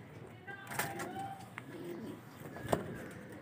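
Racing pigeons coo softly in a loft amid faint rustling and a few sharp knocks, with someone talking nearby.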